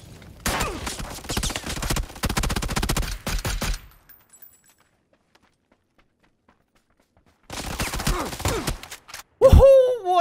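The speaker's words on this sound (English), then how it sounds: "Shots." Bursts of gunfire from the battle royale game PUBG: a loud, dense fusillade of rapid shots for about four seconds, a silent gap, then another volley near the end.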